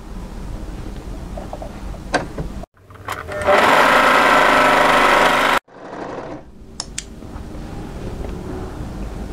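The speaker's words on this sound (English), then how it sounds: "we're going to overlock this angled edge here." An overlocker sewing machine stitches the angled edge of folded knit fabric for a turtleneck tunic, a loud steady whirring run of about three seconds between quieter handling noises.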